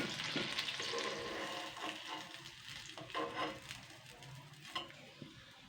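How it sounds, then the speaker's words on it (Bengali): Peas frying in hot oil in a pan until reddish, a soft close sizzle that starts dense and thins out, broken by a few stirring scrapes and light clinks. "তো দেখুন আমি কিন্তু এরকম লাল লাল করে কিন্তু ভেজে নেবো সুন্দর করে"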